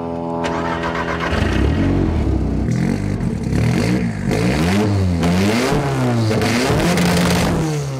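A race car engine, started with fuel pumps, injectors and ignition switched on, catches with a clatter and then revs hard repeatedly, loud and close, with pitch climbing and falling between blips.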